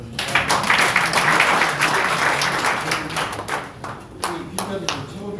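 Audience applause at a public hearing in Korea on a Gwangju special law, a dense roomful of clapping that fades over several seconds into scattered claps, with voices murmuring underneath.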